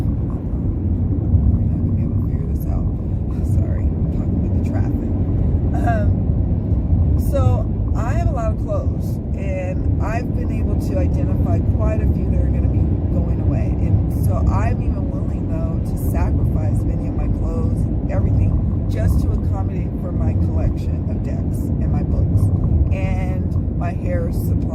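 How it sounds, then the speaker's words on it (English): Steady road traffic rumbles close by throughout, a dense continuous low drone with a person talking over it. "Sorry, I'm talking with the traffic."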